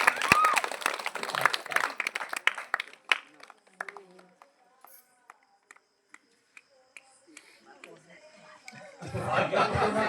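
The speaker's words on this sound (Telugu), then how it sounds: "అందరూ క్లాప్స్ కొట్టాలి గట్టిగా" A village crowd at a Sankranti festival felicitation claps in scattered, uneven bursts, with sharp individual claps, voices and chuckles between them, then a denser round of applause rising near the end.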